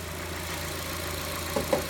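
The 2.5-liter 4-cylinder engine of a 2016 Ford Transit Connect idles with a steady, even low rumble heard up close, with a couple of faint clicks near the end.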